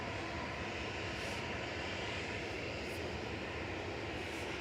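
An airliner coming in to land at Manchester Airport, its engines a steady, broad roar that holds evenly throughout at moderate level with no voices.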